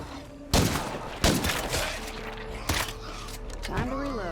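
Gunfire in the horror video game Fox's Nightmare Zone: a few sharp, loud shots spaced about a second apart, each ringing out over a constant background din of game sound and ambience.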